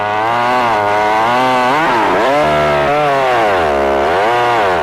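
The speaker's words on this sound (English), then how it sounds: "The new EZ is the lightest chainsaw HomeLite ever built." A Homelite EZ chainsaw runs loud and close, its two-stroke engine whining steadily and rising and falling in pitch as the throttle is worked, with no voices.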